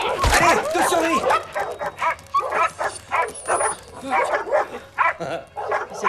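Several dogs bark, yip and whimper excitedly as they are set on someone to attack, a chaotic burst of close, loud barking with voices mixed in.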